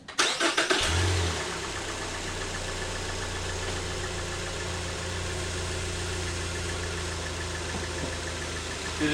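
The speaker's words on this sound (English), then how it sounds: "Why don't you go ahead and start up the car and put it in reverse again?" A Ford Fusion engine cranks over with a few quick starter pulses, catches, and then settles into a steady, close idle with a low constant hum.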